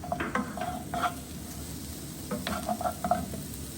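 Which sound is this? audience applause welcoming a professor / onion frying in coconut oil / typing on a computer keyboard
onion frying in coconut oil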